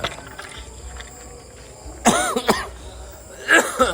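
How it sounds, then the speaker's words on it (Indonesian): Two or three sharp coughs close to the mic, a pair of quick ones followed by another burst a second later, over a quiet room. "masih batuk."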